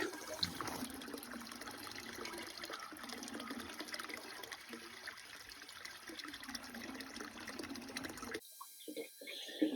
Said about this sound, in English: you can hear now water is again entering our holding tank.